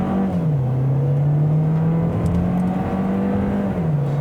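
The engine of a 2019 compact car, either a Toyota Corolla or a Volkswagen Jetta, accelerates on an off-ramp. A steady, close engine drone rises in pitch, settles, then shifts near the end, with no talk over it.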